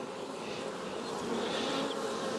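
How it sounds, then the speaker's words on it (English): Tiny biting flies buzz steadily close by during beekeeping work in a bee yard, a dense, continuous insect whine that swells slightly toward the end, with no talking. "we got these little tiny flies, and they bite right through your socks"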